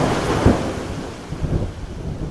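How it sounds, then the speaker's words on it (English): Thunder from lightning in a storm with rain and strong wind, a broad low rumbling roar with a heavy jolt early on and another swell later, loud and continuous. "Each lightning strike causes an explosion until finally it strikes right next to him."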